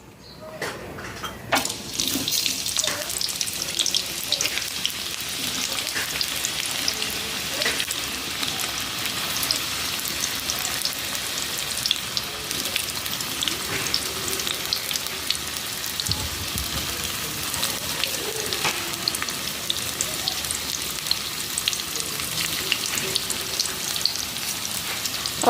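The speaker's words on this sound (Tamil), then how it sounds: "வெங்காயம் வதங்கிட்டு இருக்கு" Onions fry in hot oil for chicken biryani, a continuous crackling sizzle that runs loud and steady throughout with occasional clinks and no talking.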